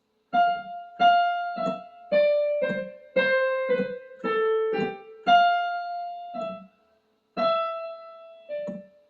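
A short piano phrase from 'Lison Dormait' of about eight distinct notes, each struck and sustained briefly with brief gaps between, played clearly with no other sound.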